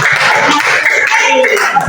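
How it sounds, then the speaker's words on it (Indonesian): Clapping for the children in an Indonesian classroom session on sorting rubbish, a short burst of hand claps mixed with young voices chattering and light laughter close by. "Tepuk tangan untuk anak-anak."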